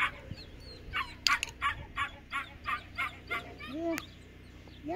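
A hungry puppy gives a run of short, rhythmic yelps and whimpers, about a dozen evenly spaced cries, with a faint steady hum underneath.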